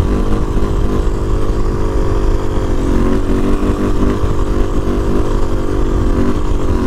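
A Suzuki DRZ400E supermoto with a 13-47 chain gearing runs in fifth gear, its single-cylinder engine a loud, steady buzzing drone under constant wind rush, heard up close from the rider's position without talking.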